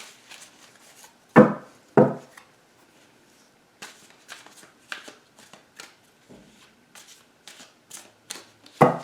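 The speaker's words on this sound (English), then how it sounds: "I am just going to cut the deck." Tarot cards are shuffled and the deck cut, giving sharp riffling snaps and soft slaps in irregular bursts, close and clear with no voice over them.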